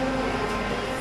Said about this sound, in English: The last ever Class 323 I'm ever going to ride on.